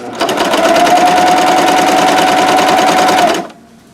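A Janome CoverPro 3000 coverstitch sewing machine chains off at high speed with a loud, steady, rapid stitching whir for about three seconds, then stops abruptly, leaving quiet room tone.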